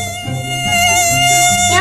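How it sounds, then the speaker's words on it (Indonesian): A mosquito buzzing in a steady, high, thin whine, close and loud for under two seconds, over soft background music. "Nyamuk. Betul."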